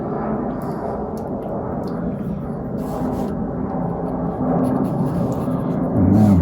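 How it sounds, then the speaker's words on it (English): A loud, low-flying jet aircraft passing overhead as a steady broad roar that swells toward the end, heard outdoors while someone paints a house behind a bridge. "That's a very loud jet, isn't it? It's a bit low."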